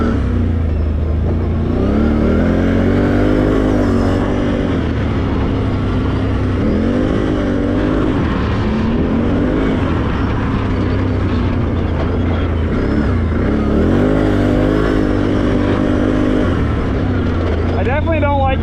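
A Can-Am Renegade 1000 ATV engine revving and accelerating in sport mode in repeated surges on a short course, rising and falling in pitch, loud and close with constant motor drone throughout.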